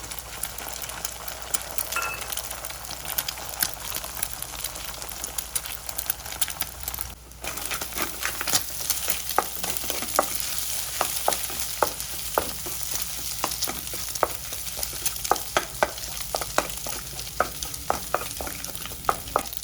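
Eggs fry in a pan with onion, ginger and garlic, giving a continuous crackling sizzle with dense spitting pops and occasional utensil scrapes, close and fairly loud, with no talking.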